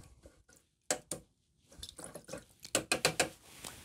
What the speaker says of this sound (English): Now, I'm just going to wash off that brush.